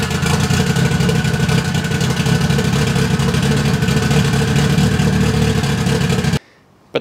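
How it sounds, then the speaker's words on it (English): A built 5E engine with the same cam and valve combination front and rear runs steadily at a lumpy, uneven idle. The mid-range drone is loud and continuous, then cuts off abruptly near the end. "Now when we started up, I noticed a problem that the rear sounds really lumpy."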